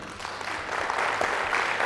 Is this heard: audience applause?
yes